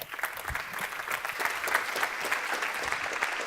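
Sustained audience applause filling a conference hall after a talk at a strategic communications forum, a steady dense wash of many hands clapping at even loudness with no voices over it.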